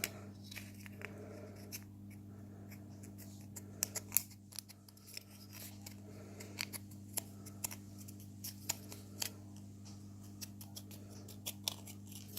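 Scissors snipping through a Nespresso Vertuo coffee capsule, a series of small sharp clicks spread across a quiet room with a steady low electrical hum underneath.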